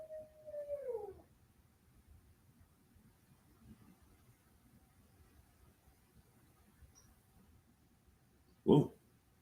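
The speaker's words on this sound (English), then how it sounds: "Got a dog out here hollering." Dog howling outdoors, one drawn-out falling howl at the start, moderately loud, then quiet background with a sharp sudden noise near the end.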